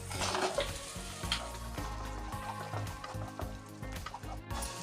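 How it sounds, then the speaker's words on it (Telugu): Boiled potato pieces are stirred into ginger-garlic paste frying in hot oil for an aloo fry, giving a steady close sizzle with repeated scraping and stirring strokes throughout, with no voices. "దీంట్లో ఉడికించి పెట్టుకున్న ఆలుగడ్డ ముక్కల్ని వేసుకొని కలుపుకోవాలి"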